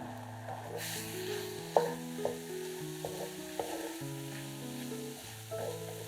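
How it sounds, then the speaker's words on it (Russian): Mushrooms cook over high heat in a hot dry frying pan, a soft steady sizzle running throughout with intermittent scraping and clinks of stirring, while gentle background music plays underneath. "На горячую сухую сковороду кладем подготовленные грибы"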